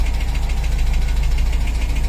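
A Gurgel car engine idles loud and close, a steady low rumble with a fast, even mechanical pulse and no voices over it.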